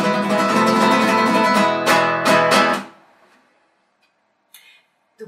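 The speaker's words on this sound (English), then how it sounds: "the first and most typical flamenco technique" Flamenco guitar triplet (abanico) strumming, full rolling chords ringing loudly for nearly three seconds with a burst of rapid strokes near the end, then decaying into near silence with a couple of faint taps.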